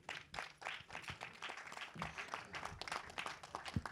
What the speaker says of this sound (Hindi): शरद केलकर के लिए एक बार जोरदार ताली होनी चाहिए.